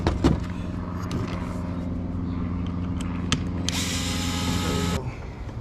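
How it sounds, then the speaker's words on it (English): A cordless power drill backs screws out of a lower bracket on an Arrma Infraction V2 RC car: a close, steady motorized whine lasting several seconds, with small clicks and a brief louder burst near the end. "Let's remove the screws that's down below"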